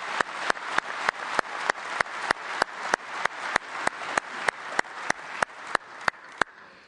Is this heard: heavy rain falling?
no